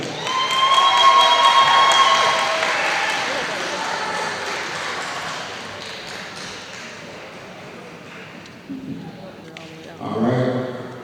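Applause at an academic excellence awards ceremony starts strong, then fades through a long tail. A voice speaks over it, with a brief tone near the end and a short renewed burst of sound.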